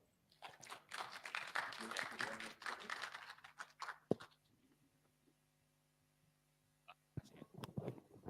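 An audience at an IT keynote seminar gives a burst of applause, dense clapping lasting several seconds before dying away into quiet, with a short scatter of claps near the end.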